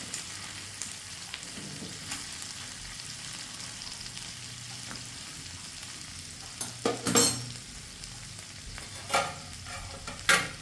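Lobster frying in hot oil while being turned, giving a low steady sizzle with several brief louder bursts of stirring and spatter toward the end.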